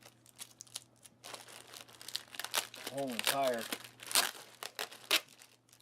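Plastic crinkles and crackles as a taped zip-lock bag from a 2014 Dutch 24-hour combat ration is pulled open, with a sharp tearing rip near the end, under a man's speech.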